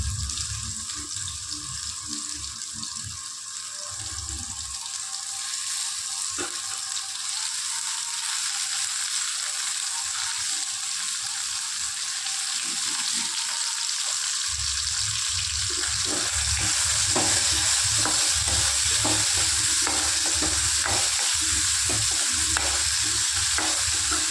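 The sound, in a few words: frying onions with tomato, stirring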